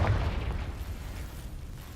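A Confringo spell blast in Hogwarts Legacy, a deep muffled boom that hits at once and then fades into a low rumbling tail.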